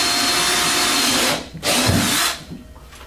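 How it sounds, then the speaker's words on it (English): A power drill bores a hole for a TV Shield mount, whining loudly and steadily up close, dipping briefly, spinning up again, then trailing off at the end. "I'm going to go ahead and drill my hole."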